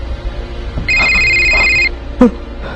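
An electronic telephone ring, one steady tonal burst lasting about a second, loud and close, followed by a short sharp knock, with no talk in the clip.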